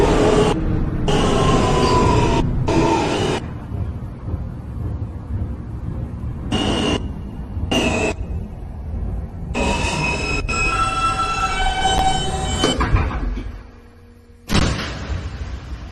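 A New York subway N train running as the Broadway Local rumbles and screeches along the track, with loud steady roar, sharp bursts of noise, wheel squeals and a brief quiet lull near the end.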